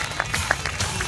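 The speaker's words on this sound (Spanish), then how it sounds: "¡Aplauso de Coruña!" Crowd clapping at the podium ceremony of the A Coruña rally, a brief, loud, dense wash of applause from many hands, with a little voice mixed in.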